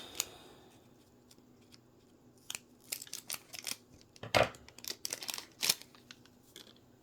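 Quiet snips and crinkling as a small plastic bag from a miniature pizza place craft kit is carefully cut open, with scattered sharp clicks and rustles close by and no talking.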